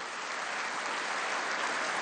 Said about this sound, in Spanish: un gran aplauso a los gobernadores